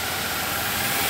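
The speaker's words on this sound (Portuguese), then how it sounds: "Rolls Royce conversível." A Rolls-Royce convertible's engine runs steadily on a São Paulo street, its broad, even hiss-laden rumble filling the whole short moment with no break or rise.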